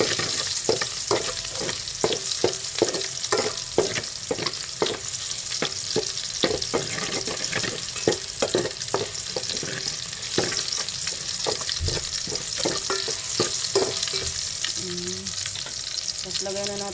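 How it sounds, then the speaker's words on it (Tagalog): Garlic and other ingredients sauté in hot cooking oil for pancit bato, a steady loud sizzle with rhythmic scraping stir strokes throughout, no talking. "nagpainit na tayo ng mantika. Lagyan natin ng bawang. Igisa muna natin yung sahog"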